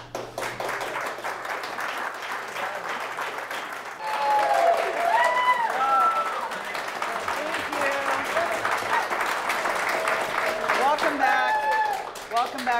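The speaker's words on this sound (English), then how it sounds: "I love the sincerity of applause with a sign that says clap now." A television studio audience applauds on cue, the clapping swelling and holding steady as voices and whoops rise over it.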